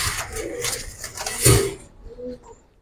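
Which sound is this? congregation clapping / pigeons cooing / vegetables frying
pigeons cooing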